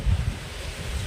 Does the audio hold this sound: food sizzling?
no